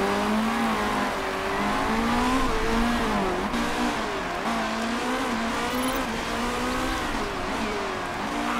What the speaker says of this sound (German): Ja, da ist Arkanen vorbei an Silvera. Silvera wieder innen vorbei